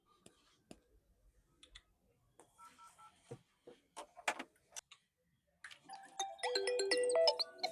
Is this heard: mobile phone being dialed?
yes